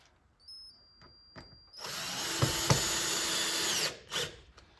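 A power drill drives a number 8 by 3/4 inch stainless steel screw into a Hehr window frame in one sustained whirring burst of about two seconds, preceded and followed by light handling taps.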